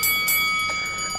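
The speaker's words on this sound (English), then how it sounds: "Let's ring the bell." A bell rung to start a wrestling match gives steady, sustained metallic ringing tones that hold through the moment, with no talk over it.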